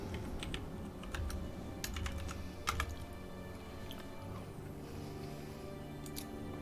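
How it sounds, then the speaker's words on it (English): Someone types on a computer keyboard in quick irregular bursts of sharp clicks separated by short pauses, faint and close against a low background hum. "I was typing shoutouts when it popped up"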